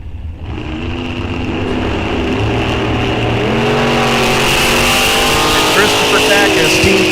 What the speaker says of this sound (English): Another Canada versus USA Olympic drag racing battle here.